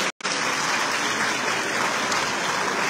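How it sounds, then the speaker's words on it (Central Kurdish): A large audience claps at a Nowruz festival held at the University of Sulaymaniyah. The applause is dense and sustained after a brief cut at the very start. "چەپڵە ڕێزان و هاندانی ئێوە گەرموگورتریان دەکاتەوە."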